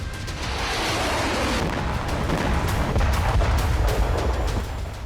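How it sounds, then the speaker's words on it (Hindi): A Houthi ballistic missile strikes near a power plant in Ashkelon, Israel, heard as a sustained, loud rumbling roar of explosion and heavy blast noise filling the whole stretch with no speech. "जहां पावर प्लांट के पास हूती की बैलिस्टिक मिसाइल गिरी, जिसके बाद जोरदार धमाका देखा गया"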